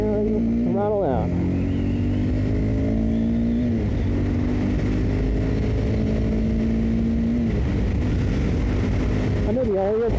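A Honda CBR300R motorcycle under way while cornering, its engine droning steadily as the throttle opens and the pitch climbs in smooth sweeps, with loud wind rush throughout and a rider's voice briefly over it.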